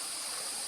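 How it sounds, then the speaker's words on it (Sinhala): A small forest stream flows and trickles steadily nearby, a continuous bright wash of running water with no other sounds over it. "මෙතනින් එහා පැත්තට පුංචි දොළ පාරක සද්දයක් ඇහෙනවා"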